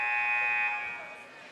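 A buzzer sounds at a girls' high school basketball game to end a timeout, one sustained, steady electronic tone lasting about a second before fading into the gym's ambience.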